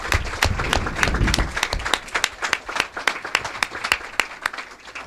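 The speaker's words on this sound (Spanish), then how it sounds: "Un gran aplauso para" An audience at a panel on image and word in the digital era applauds, starting as a thick burst of clapping that thins into scattered, distinct individual claps and fades.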